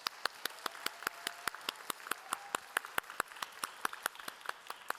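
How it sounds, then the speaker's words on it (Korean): A church congregation at a Sunday young adults' worship service applauds a young man who is about to marry, with steady, dense clapping that fills the room and carries no talk. "우리 박수로 맞이하겠습니다."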